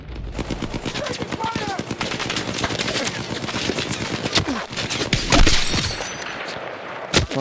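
Video game gunfire in rapid machine-gun bursts and single shots, loud and dense throughout, with a shouting player's voice mixed in.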